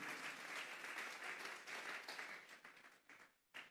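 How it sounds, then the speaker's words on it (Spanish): A church congregation claps together during a Sunday afternoon service, a dense steady wash of applause that thins into scattered claps, then one final short burst. "Vamos a darle una ofrenda de palmas a Dios en esta tarde."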